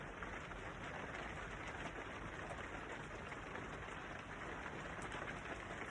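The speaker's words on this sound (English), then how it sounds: "we're out in the rain." Steady rain falls outdoors as a constant, even hiss of drops on surfaces, continuous and fairly soft for the whole stretch with no voices.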